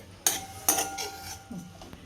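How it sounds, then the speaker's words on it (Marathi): Clinking metal kitchen sounds as a lid goes onto a pot of cauliflower-potato curry on a home stove: two sharp knocks close together, then softer rattles and scrapes. "चला झाकण लावून घेते याला"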